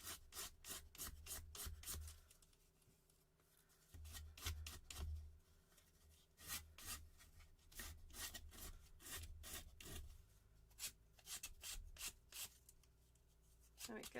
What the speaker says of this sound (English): I can just keep filing that, and then that will come in line with the the wood behind it